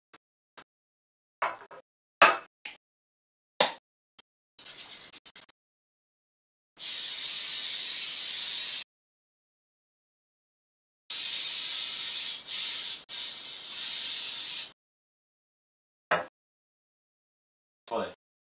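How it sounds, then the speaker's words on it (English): Spray butter hisses from a can onto toast in two long, steady bursts of about two seconds each, close and loud, between short clicks and taps of handling. "now we're gonna spray some butter on our toast"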